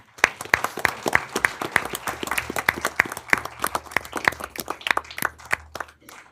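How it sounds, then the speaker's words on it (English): Scattered applause at a city council meeting, with distinct individual claps from a modest room, steady and moderately loud for several seconds with no talk over it. "Another round of applause for this great moment, okay?"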